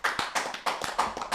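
A brief round of applause for guests on a live football talk show, a few people clapping quickly and close for just over a second.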